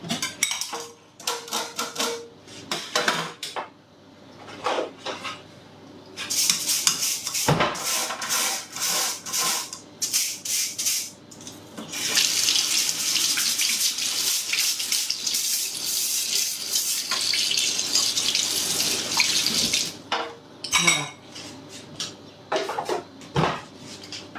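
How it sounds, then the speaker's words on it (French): A dirty colander is scrubbed under a running kitchen tap, with steady gushing water and repeated rubbing and scraping strokes, loud and close, broken by brief pauses, with no one talking. "D'abord, la passoire est un peu sale, je vais la laver."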